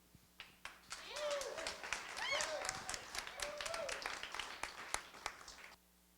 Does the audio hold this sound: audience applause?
yes